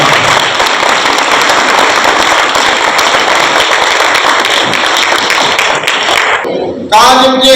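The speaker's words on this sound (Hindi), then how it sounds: "मैं आप सबकी जोरदार तालियों में फादर मकसूद को खुशामदीद कहता हूं।" An audience at a book launch claps loudly and steadily for about six seconds as a dense, crackling wash of applause. It then cuts off abruptly and a voice or music follows.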